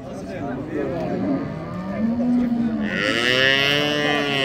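A three-day-old male calf moos at a livestock market in Beylagan, a long rising-and-falling bellow followed by a second louder call, close by with market noise around.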